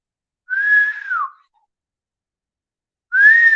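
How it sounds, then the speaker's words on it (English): Two loud, clear whistles, each a single sustained tone that slides downward at the end, separated by a couple of seconds of silence. "Did you hear the whistle?"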